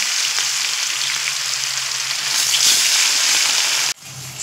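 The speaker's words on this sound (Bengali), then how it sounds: "মাছ তো আমার ভাজা হচ্ছে" Rohu fish pieces marinated in salt and turmeric sizzle steadily in hot oil, a loud continuous crackling fry that drops off abruptly near the end.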